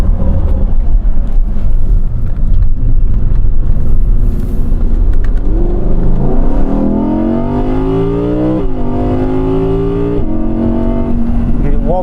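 An Audi or Lamborghini engine rumbles loudly up close, then revs upward in rising sweeps that climb and hold, while a person talks over the noise.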